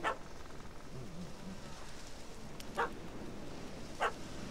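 A dog barks a few times in The Witcher 3: Heart of Stone. There are three short, sharp yaps at moderate distance, spaced apart over a steady game ambience.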